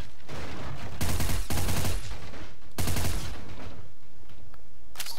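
Bursts of gunfire in Garry's Mod, with two loud rapid volleys of shots, each about half a second to a second long, separated by quieter gaps and followed by a brief sharp crack near the end.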